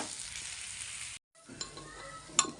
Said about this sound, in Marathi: मस्त मस्तपैकी सगळं फ्राय करून घेते